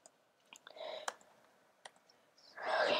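Sparse clicks from a computer keyboard spacebar, a few sharp taps spread out, with breathy voice sounds between them and a louder exhale or murmur at the end.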